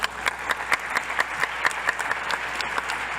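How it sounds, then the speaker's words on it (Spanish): Steady applause from an audience at a youth parliament session honoring a guest speaker, with dense overlapping claps and a few sharper, evenly spaced individual claps standing out near the front, sustained at moderate loudness throughout without voices. "Un fuerte aplauso."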